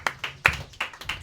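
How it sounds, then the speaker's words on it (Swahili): A church congregation claps for the Lord in a steady rhythm, sharp distinct claps sounding about every third of a second, close and without talk. "Pigie Bwana makofi mazuri kama unanisikia."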